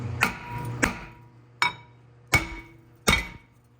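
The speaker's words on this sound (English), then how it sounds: "You get yourself a mini sledge. You want to go ahead and hit it. See if you can break it loose." A mini sledgehammer strikes a front brake rotor on a 2013 Mitsubishi Outlander to break it loose: five sharp metallic whacks with ringing decay, irregularly spaced, close and loud with no talk.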